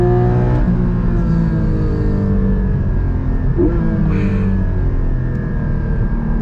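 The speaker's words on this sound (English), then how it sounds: "You hear the traction control doing its thing." The engine of a 2021 Porsche Cayman GT4 PDK pulls steadily under throttle with traction control intervening, a loud, close, continuous drone whose pitch wavers and briefly stutters midway.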